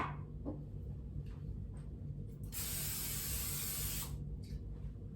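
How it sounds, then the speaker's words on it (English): A can of non-stick cooking spray hisses onto a baking dish in one steady burst of about a second and a half, close by, amid faint background hum and small clicks. "So I'm going to spray this with a non-stick cooking spray."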